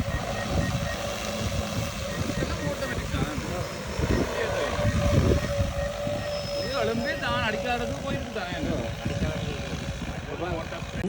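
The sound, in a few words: DJI Agras T25 agricultural drone taking off and flying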